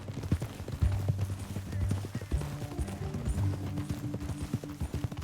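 Horse hoofbeats in Red Dead Redemption 2 form an uneven clip-clop of hooves at a walk, fairly close and moderately quiet, over low background sound.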